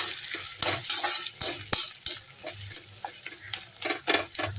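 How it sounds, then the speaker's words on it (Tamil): Onions sauté in a pan for a vegetarian mock liver thokku, close sizzling punctuated by frequent spatula scrapes and clinks against the metal in an uneven rhythm, with no voices. "நல்லா வெங்காயம் வதங்கட்டும்"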